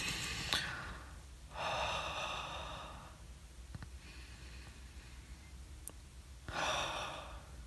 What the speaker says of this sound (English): Leave you with a deep breath.